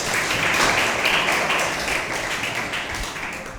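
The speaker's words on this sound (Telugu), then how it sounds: "వెరీ గుడ్, చప్పట్లు కొట్టండి." Audience applause at a Manikarnikotsavam celebration honouring Rani: a dense, steady clapping from a crowd that holds for a few seconds and slowly eases off.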